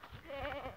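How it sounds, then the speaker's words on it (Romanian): A goat with her newborn kids on a rural farm gives one short, wavering bleat, close and clear. "Uitați capra și iezi ceilalți"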